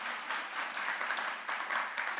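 Steady applause from a church congregation during a Friday worship service, many hands clapping continuously without pause for a couple of seconds.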